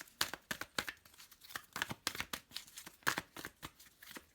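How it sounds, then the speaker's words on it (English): Tarot cards being shuffled in a series of quick, crisp riffling and flapping bursts at close range, with an uneven rhythm and no talking. "One last shuffle."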